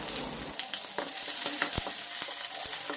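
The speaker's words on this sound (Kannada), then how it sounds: "ಫಸ್ಟ್ ಈರುಳ್ಳಿನ ಹಾಕ್ಕೊಂಡು ಚೆನ್ನಾಗಿ ಫ್ರೈ ಮಾಡ್ಕೊಳ್ಳಿ." Onions fry in oil in a pan for a hyacinth bean dal sambar, giving a loud, constant sizzle. Short clicks of stirring against the pan punctuate it throughout.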